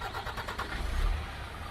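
A heavy engine cranks and catches, its low rumble swelling and revving before settling into a steady idle.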